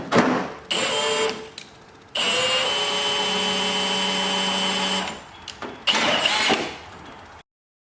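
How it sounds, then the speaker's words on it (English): A drill bores rivet holes through the hood of a 2.5L-swapped NC Mazda MX-5 to fit a vent, in several close, steady whining runs, one long and others short, separated by brief pauses. "now I'm going to drill out the holes"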